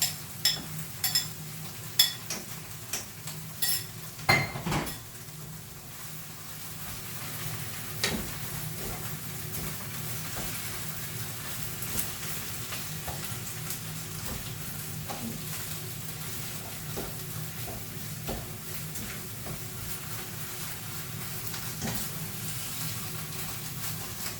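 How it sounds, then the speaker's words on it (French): Ground meat sizzling and frying in a pan with spinach for a borek filling, a steady close crackle running throughout with a few louder stirring knocks early on. "Et je vais rajouter ma viande hachée."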